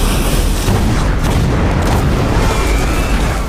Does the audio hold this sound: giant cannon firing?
yes